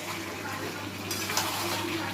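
Food being lightly stirred in a pot just after the lid comes off, brief wet scraping and sloshing over a steady background hiss.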